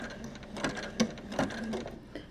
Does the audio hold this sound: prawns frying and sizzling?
no